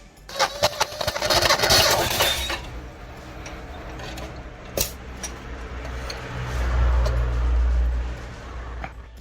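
A 1978 Toyota Corolla engine turns over in a rough, rattling burst of cranking. After a lull, a lower, steadier rumble follows as it tries to catch.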